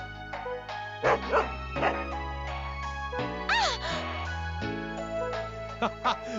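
A dog barks repeatedly in the Trauma Center video game, a few sharp yips and woofs in bursts over sustained synthesized game music.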